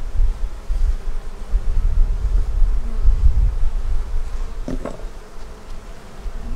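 Honeybees drone steadily around an open hive outdoors, a close, continuous buzzing with individual bees passing near the microphone and a light rustle of wind.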